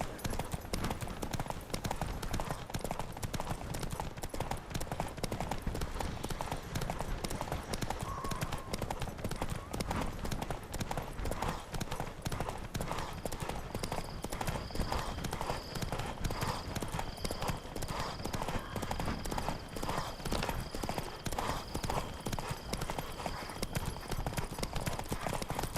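Rapid, rhythmic hoofbeats of a galloping horse in The Witcher 3 video game pound on without pause, close and steady, with faint voices and a bright chiming tone joining later.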